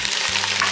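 Curry leaves hitting hot frying oil, a loud, bright hissing sizzle that stays dense across a very brief moment, alone without voices.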